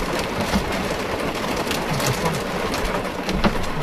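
Heavy rain pours steadily during a storm at a reservoir, a dense, even hiss close around with no voices.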